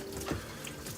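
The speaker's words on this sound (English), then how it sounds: "Wash your hands for 20 seconds." Tap water runs steadily into a sink during handwashing, a continuous close splashing hiss with slight changes as hands move under the stream.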